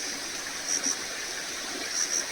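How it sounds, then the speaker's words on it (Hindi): Water flows across a road in a Himachal village, a steady hissing wash of moderate volume with slight gurgling swells, heard alone without talk. "ये पानी है, ये रोड के ऊपर से ही बह रहा है"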